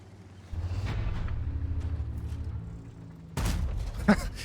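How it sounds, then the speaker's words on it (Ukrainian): In a tank video game featuring the VK 75.01 (K), a low mechanical rumble of the tank runs underneath, then a sharp cannon shot bursts in near the end, followed by a brief thud. "Звук пострілу є."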